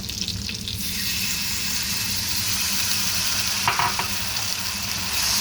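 Singapore black pepper crab is stirred in a pan with a thickening slurry and a little added liquid, giving a loud continuous sizzle with spatula scrapes and clatter partway through.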